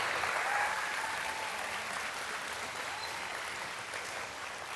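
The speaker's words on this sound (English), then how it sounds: "everybody give her a warm round of applause." Sustained audience applause at a talent-style event, a dense steady wash of many hands clapping throughout, fairly loud and without any talk over it.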